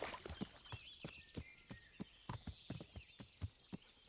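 Hooves of a horse in a hardcore-mode video game, a quick, close run of clip-clop hoofbeats at a steady trotting rhythm, fairly faint, with no talk over them.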